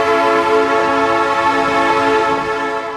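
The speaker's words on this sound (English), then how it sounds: "It's a train. Daddy Pig has to stop while the train whizzes past." A train sounds a sustained, loud horn as it rushes past, a steady harmonic blare held for several seconds before easing slightly at the end, with no voices.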